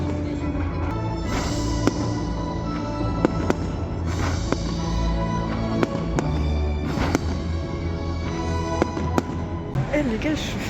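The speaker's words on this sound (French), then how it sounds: "j'ai des feux d'artifice là-dessus" Fireworks exploding over Madrid, a steady crackle of sharp pops and bangs under a continuous wash of crowd noise, with a person talking at times.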